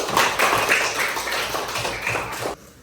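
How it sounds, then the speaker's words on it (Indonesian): A classroom of children clap together for a classmate: a loud, dense burst of rapid hand claps lasting a couple of seconds, then stopping abruptly. "Kita beri tepuk tangan untuk Sakila."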